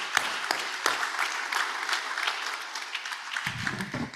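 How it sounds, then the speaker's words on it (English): A room of club members at a Rotary meeting applauds, steady crisp clapping close to the microphone throughout, with a few murmured voices near the end. "Let's give ourselves a round of applause."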